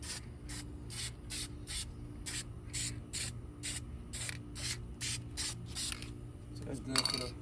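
A spray paint can hisses in a steady series of short, even bursts while coating brake calipers, each spray clear and close, with a faint rattle at the end.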